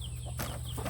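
A chicken clucks twice in quick succession, close and moderately quiet, over a low steady hum.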